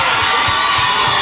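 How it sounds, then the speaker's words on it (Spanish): Loud crowd of children and adults cheering and shouting at a concert, a bright continuous roar with excited voices rising throughout the short burst. "Un aplauso para los chicos,"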